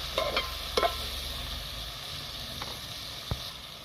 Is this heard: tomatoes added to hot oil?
yes